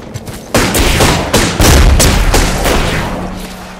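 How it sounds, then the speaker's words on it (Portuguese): Bursts of automatic gunfire from squads fighting each other in Apex Legends, rapid overlapping shots and heavier booms, loud and close, growing denser toward the middle before tapering off. "Dois squad meia boca trocando tiro"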